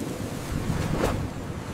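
A steady rushing of wind, with a soft gust swelling briefly in the middle and no voices.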